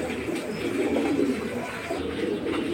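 Pigeons coo steadily inside an enclosed loft, a dense low murmur of many birds close by with no talk over it.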